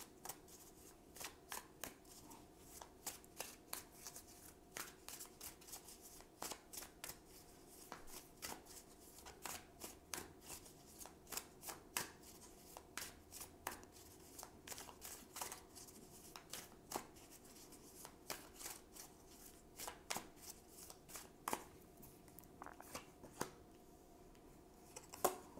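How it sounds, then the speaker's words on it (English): Tarot cards are shuffled and drawn by hand, with quiet, rapid riffling clicks and soft flicks repeating steadily at close range. "So now I'm going to choose two cards for"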